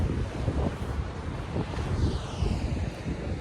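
Wind blows steadily at the coast on a clifftop at Point Dume, Malibu, a constant low rushing roar buffeting the microphone with faint surf beneath, no voices.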